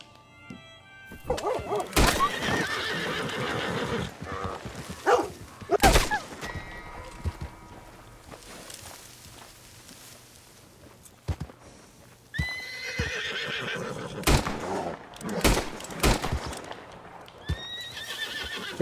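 A horse in Red Dead Redemption 2 neighs and whinnies several times amid clip-clopping hooves and sharp impacts, loud and close, with scattered bursts of gunfire-like thuds and no talk.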